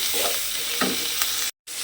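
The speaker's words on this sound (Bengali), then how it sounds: "এবারে একটু হালকা করে পেঁয়াজ বাটাটা একটু ভাজা ভাজা মতো করে নিতে হবে" Onion paste fries in a pan with a constant sizzle and a few scraping spatula strokes. The sound cuts out briefly near the end before the sizzle returns.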